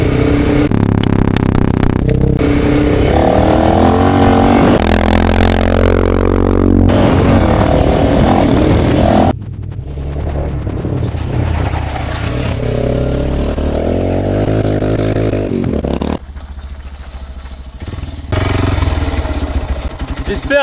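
Motorcycle riding along a wide sandy forest track, its engine loud and close, revving and surging in long pulls with brief drops in level and steady rough mechanical clatter.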